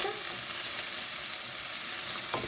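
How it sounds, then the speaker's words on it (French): Onions frying in a pan for a ratatouille with pork, a steady bright sizzle close by with a brief stir near the end. "Donc ici, je vais verser les oignons."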